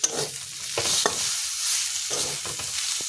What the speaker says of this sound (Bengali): এখন একটু নেড়ে চেড়ে নেব আমি।